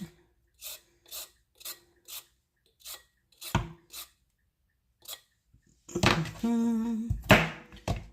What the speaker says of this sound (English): Peel this carrot real quick.